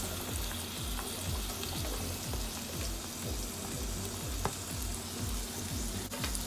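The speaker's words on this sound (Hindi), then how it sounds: "मीडियम फ्लेम में 2 मिनट तक फ्राई कर लेंगे" Capsicum and onion fry in refined oil over a medium flame, giving a loud, close, continuous sizzle with quick rhythmic stirring and scraping strokes and no talk.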